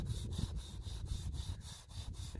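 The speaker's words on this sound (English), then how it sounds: "But I'm gonna sand them all down" Sandpaper scuffing a painted stripe on an RV body in quick, even back-and-forth strokes, a steady rasping rhythm of about nine passes, close and alone.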